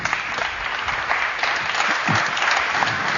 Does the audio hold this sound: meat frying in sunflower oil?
no